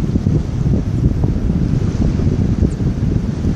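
Steady wind and surf on a beach at La Saline, Réunion island, a continuous loud wash of breaking waves and gusting wind across the whole stretch, no voices.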